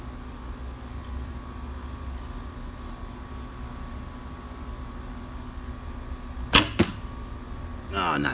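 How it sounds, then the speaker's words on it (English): Three Rivers Harvester arrows loosed from a bow, two sharp close releases in quick succession, followed by a softer burst of noise, over a faint steady outdoor hum. "Harvester arrows from Three Rivers."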